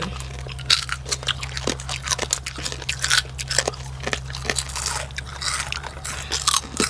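Crispy pork rinds are bitten and chewed close to the mic, giving a dense run of sharp, loud crunches and crackles over a steady low background hum.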